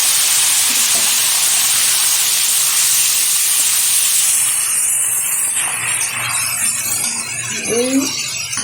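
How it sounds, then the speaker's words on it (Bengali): Yogurt-marinated mutton lands in a hot pan and sets off a loud, dense steam hiss that fades and thins after a few seconds, leaving quieter sputtering and a brief clatter near the end. "এখন দিয়ে দেবো এর মধ্যে মাটন, দই দিয়ে যে মেখে রেখেছিলাম সেই মাটন দিয়ে দিচ্ছি"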